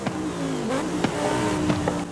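A Lamborghini Sesto Elemento FE engine in Forza Horizon 5 revs hard close by, its pitch climbing and dropping between gear shifts, loud and continuous with no talking.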